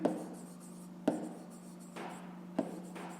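A pen scratches on paper while a fifth-grade math exercise is written out: three distinct short strokes about a second apart, each with a soft trailing rub, close and quiet with no talking.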